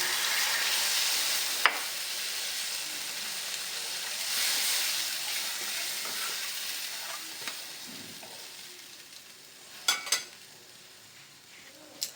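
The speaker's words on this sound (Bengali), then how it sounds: "মশলাটা কষা হয়ে গেছে, আমি এর মধ্যে জল দিয়ে দিলাম।" Water poured into fried spice paste for a chital fish curry with potato, aubergine and lentil dumplings hisses and sizzles steadily in the pan, then softens slightly, with a few faint utensil clinks near the end.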